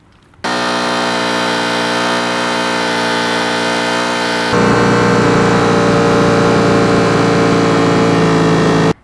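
A 2025 Ducati Panigale V4S with a Termignoni exhaust is held at a steady 7,000 RPM, giving a loud, sustained, buzzy roar. Partway through, the tone shifts to a slightly louder, rougher note, and the engine stays close and constant until it is cut.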